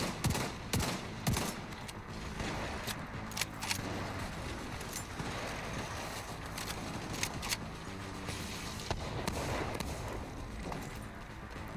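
Black Tusk crawlers fire sniper rifles amid a dense firefight in The Division 2, with repeated sharp gunshots and bursts cracking over continuous loud battle noise for the whole stretch.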